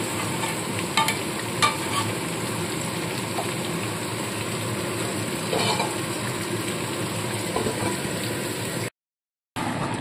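Vinegar-marinated mutton korma cooks under a lid in a pan, giving a steady, even sizzle with a few soft clatters. The sound cuts out briefly near the end.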